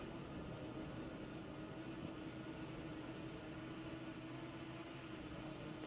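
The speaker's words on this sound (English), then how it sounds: "As you can probably hear, the drone is in the air." Steady whine and hum of a borrowed drone hovering in the air during a livestream near a volcanic eruption in Iceland, a constant even drone with a faint tonal band that neither rises nor falls.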